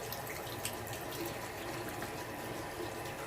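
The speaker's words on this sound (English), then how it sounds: "And I will fill the glass," Lukewarm tap water runs from a kitchen sink into a glass cup, a steady, quiet rushing hiss with no breaks or voices.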